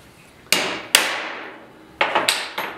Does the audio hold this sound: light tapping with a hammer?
yes